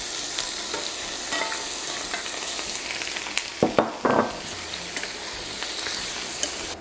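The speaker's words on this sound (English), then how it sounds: "saute the shrimp for about 2 to 3 minutes until they are just done and become a nice bright pink color" Shrimp sautéing in canola oil in a sauté pan give a steady crackling sizzle, with a few louder bursts and utensil knocks near the middle as the pieces are moved.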